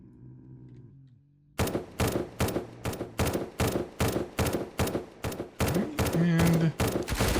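An MP7 fires in the SurrounDead video game, about a dozen loud, sharp shots in quick uneven bursts after a quiet hum, with a brief tone sounding over the last few shots.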